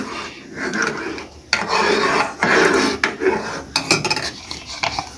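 Spoon scraping and rasping against the bottom of a pan while fruit custard is stirred, a steady close-up rubbing with short pauses and bursts of metal-on-metal scraping.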